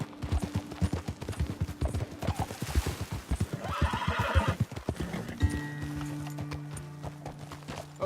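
Horses in the Red Dead Redemption II video game gallop with rapid, loud hoofbeats, a neigh or whinny rising midway, then the riders slow and a steady low hum of ambience remains near the end.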